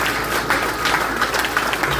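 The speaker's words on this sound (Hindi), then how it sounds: "कृपया जोरदार तालियों से स्वागत करें।" A crowd at a Hindi poetry gathering held by a Delhi academy for the new year gives loud, dense applause to welcome the poets, a continuous wash of clapping without pauses.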